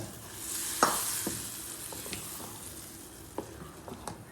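Coconut pieces and sesame seeds fry in a pan for a mango unniyappam batter, a steady soft sizzle with a few sharp stirring clinks and scrapes scattered through, close and moderately quiet.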